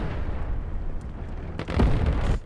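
A tank cannon fires in the mobile game War Thunder Mobile, a deep rumbling boom that swells midway and holds through a heavy low roar, with no voices.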